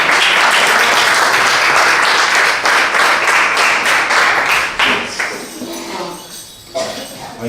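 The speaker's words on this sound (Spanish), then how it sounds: "un aplauso más para el Señor" A congregation at a lively church service applauds in praise, loud dense clapping with crisp individual hits that fades and breaks up over the last few seconds.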